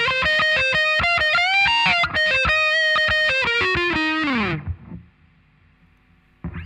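A heavily distorted electric guitar plays a short solo from a song, rapid picked notes and bends ending in a descending slide, then the sound cuts off to near silence.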